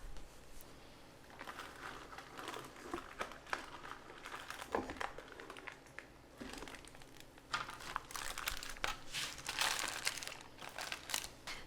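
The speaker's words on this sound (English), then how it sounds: "The foil will cool down fairly quickly, so I like to just take it right off of the foil at this point." Aluminium foil crinkles and crumples as it is peeled away from a freshly baked ham, a steady run of close rustling with a few sharper crackles and no voices.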